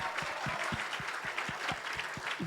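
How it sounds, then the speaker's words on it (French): Indoor audience applauding the production crew at a closing ceremony: a dense, steady wash of many hands clapping, sustained at even loudness throughout with no voices on top. "Beaucoup d'applaudissements pour eux parce que c'est sportif de tenir une émission comme ça."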